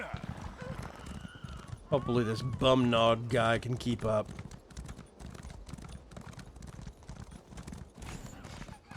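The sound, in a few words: horse galloping in video game Elder Scrolls Online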